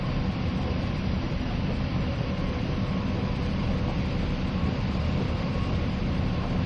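Class 50 diesel locomotive in Train Simulator Classic, on the Settle–Carlisle line at night: a steady, loud, continuous engine drone and rumble with no change throughout, heard alone.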